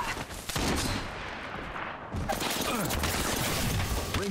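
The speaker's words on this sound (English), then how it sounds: "Being shot at." Dense bursts of automatic gunfire from the battle royale video game Apex Legends, rapid rattling volleys filling the mix loudly and continuously, with game voice lines mixed underneath.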